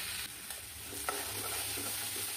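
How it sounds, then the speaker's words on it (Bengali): Taki fish chutney with lemon juice stirred in a hot pan, a steady sizzle broken by a few spoon scrapes and light knocks, close and brief. "এখন লেবু রসটা দিয়ে এখন আমি নেড়ে চেড়ে দিচ্ছি"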